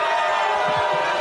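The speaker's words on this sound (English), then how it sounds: "Crowd loves Scott" A crowd at an outdoor block party keeps up a dense, continuous roar of cheering and shouting, loud and close throughout.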